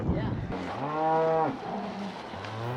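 Cattle moo during a high country cattle drive near a creek, one long loud bellowing call followed by shorter lower lows, close and clear with no talking.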